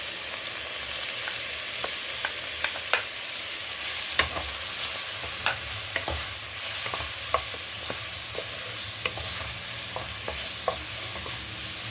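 Leeks, celery and mushrooms sautéing in a pan for a Chinese-style soup, a constant close sizzle with scattered light scrapes and taps of a stirring utensil.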